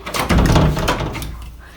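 A door being locked with a key, heard as a short close burst of clattering, scraping metal and mechanism clicks lasting under two seconds, with no talk.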